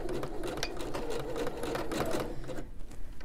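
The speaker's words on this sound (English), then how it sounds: "I'm going to top stitch all the way around all four sides, close to the edge, about a 16th from the edge" A sewing machine topstitches around the edges of fabric tabs while turning pants into convertible capris, its needle running in a fast, even rattle up close with a brief pause before stitching resumes.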